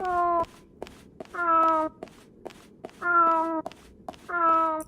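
A cat meows in the video game Fragile Dreams, four drawn-out tonal meows spaced evenly over a quiet background with soft tapping in between.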